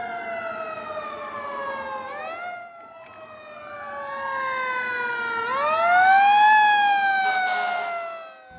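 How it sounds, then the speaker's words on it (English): An emergency vehicle siren approaching a roundabout cycles through rising and falling wails, growing louder toward the middle, with no talk over it. "When emergency vehicles approach, always give them the right of way."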